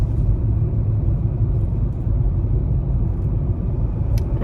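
Continuous low road rumble and engine drone fill the inside of a moving car, steady and moderately loud throughout, with no talking.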